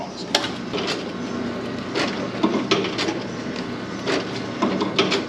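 An egg grading machine runs on a farm with a steady mechanical clatter, a continuous rattling hum broken by repeated sharp knocks and clacks at close range.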